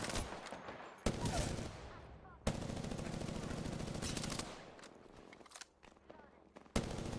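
Apex Legends gunfire rattles in rapid automatic bursts, some at close range and loud, broken by short gaps and single shots.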